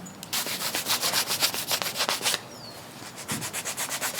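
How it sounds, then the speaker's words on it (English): A guitar body coated with grain filler is hand-sanded with 1500 grit paper in quick, rhythmic back-and-forth rubbing strokes, close up and fairly quiet, with a brief pause midway. "2 coats of grain filler followed by a 1500 sanding."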